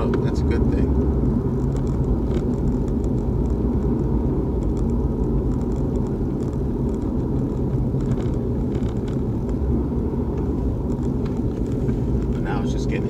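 A Nissan Altima cruises at speed on a highway, heard from inside as a loud, constant low road and engine rumble with wind noise, and a voice talks over it throughout.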